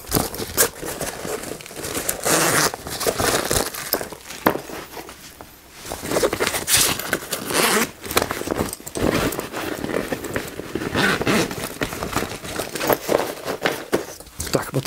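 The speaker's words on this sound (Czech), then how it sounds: "Pakliže chceme kapsy odpojit, slouží k tomu dvojice zipů," Zippers being pulled open to detach the side pockets of a Berghaus MMPS Crusader III military backpack, several rasping zips and fabric-handling rustles in bursts, close and fairly loud, with no talk.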